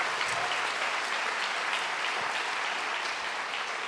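A round of applause from the audience at an MBA graduation ceremony, a steady, even wash of many hands clapping at moderate volume throughout, with no voices.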